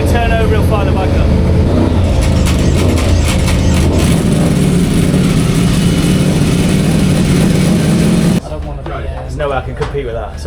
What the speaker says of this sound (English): So that's the Terminoni exhaust. That sounds pretty epic.